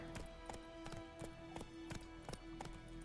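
Roach, Geralt's horse in The Witcher game, gallops in a quick, regular clip-clop of hooves, faint and somewhat distant against a low, quiet game soundscape.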